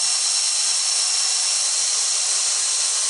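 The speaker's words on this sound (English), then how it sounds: "I finish off the hole with a file in a drill, set to reverse so it doesn't dig in" A power drill running in reverse whirs steadily with a hissing, grinding edge as a file spins in it to finish a drilled hole, continuous and close with no pauses.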